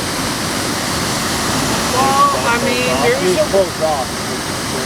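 Waterfall cascades rush through the deep Bad River Gorge in Wisconsin, a steady broadband roar throughout while people talk over it in the middle.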